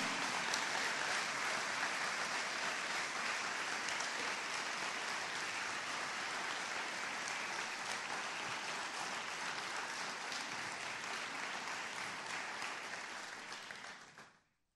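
A church congregation applauding during a sermon, a full, continuous roar of clapping that stays even for over ten seconds and then fades out quickly.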